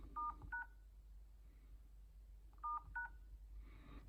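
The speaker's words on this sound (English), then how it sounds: "You dial." An iPhone keypad sounds two quick pairs of telephone dialing tones, about two seconds apart, clear but quiet over a low background hum.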